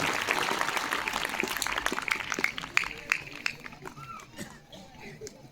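Audience applause at a committee-honouring moment during a Kannada devotional discourse on Basavanna, a dense burst of clapping that stays loud for the first few seconds and then thins out toward the end.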